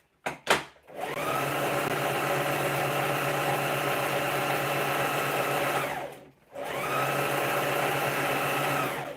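A sewing machine stitches fabric in a steady, fast whirring run that stops briefly midway, then starts up again at the same pace, close and loud with a few clicks at the start and no talk.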